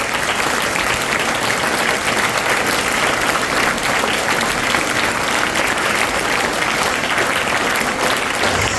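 A school audience applauds an NDRF safety awareness team, sustained dense clapping from a crowd that holds steady and loud from start to finish with no talk over it.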